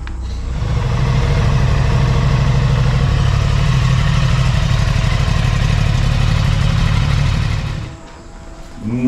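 An Aprilia motorcycle engine runs steadily at a low, even idle, close and loud, with a deep throbbing drone that holds for several seconds before dropping away near the end.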